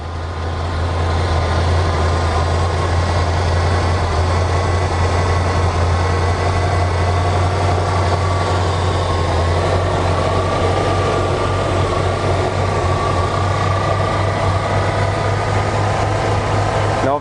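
A 1973 Ford Gran Torino with a 302 V8 starts and settles into a steady, loud idle, a deep low rumble running unbroken for the whole stretch.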